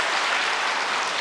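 A congregation at a New Year's Day prayer meeting applauds. The dense, even clapping fills the whole short stretch with no pause.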